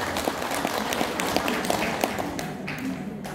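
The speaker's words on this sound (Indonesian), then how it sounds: "Tepuk tangan untuk Aisyah." Applause from an audience at a plenary meeting of a women's organization in Lamongan, a dense steady patter of clapping sustained throughout at moderate loudness, with faint voices underneath.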